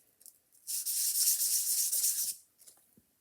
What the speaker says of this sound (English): You always go in a circle. You don't go back and forth, because if you go back and forth, it'll sand it at an angle.